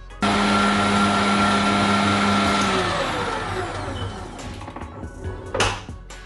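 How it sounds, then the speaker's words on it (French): A stand mixer whips egg whites and sugar into a firm Christmas meringue with a loud, steady motor whine that slowly winds down as it stops, followed by a few clattering knocks. "je vais arrêter le robot, je vais contrôler ma meringue"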